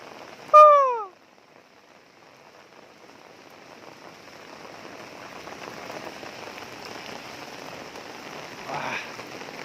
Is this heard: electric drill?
no